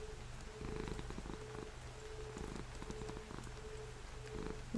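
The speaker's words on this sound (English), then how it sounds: "I want to see if you can hear my cat purring anymore." A pet cat named Bessie purrs steadily close up, a low continuous rumble pulsing in slow regular cycles with faint soft rustling over it, no talk.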